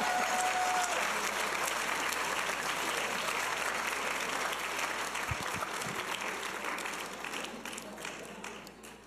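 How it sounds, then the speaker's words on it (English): An audience at a college Athlete of the Year awards ceremony applauds a nominee, with dense, sustained clapping from a large crowd that slowly fades over about nine seconds. "For Alex, make your hands clap."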